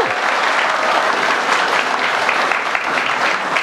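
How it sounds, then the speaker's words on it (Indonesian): Energetic, continuous applause from a crowd of Universitas Al Azhar Indonesia students at a West Java gubernatorial debate, many hands clapping loudly and evenly, with a brief cheer at the start. "tepuk tangan yang meriah adalah rekan-rekan mahasiswa dari Universitas Al Azhar Indonesia"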